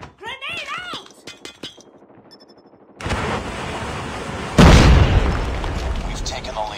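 A grenade detonates in Call of Duty Mobile, a loud close boom with a shattering burst that comes after a sudden wall of gunfire and battle noise, while voices are heard at the start.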